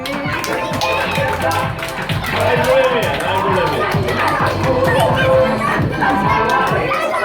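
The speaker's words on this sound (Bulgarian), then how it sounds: "Аплодисменти за Спайдърмен." At a children's sixth birthday party, a crowd claps for a child dressed as Spider-Man, and cheerful scattered applause mixes with children's shouts, chatter and running feet in a lively, loud room.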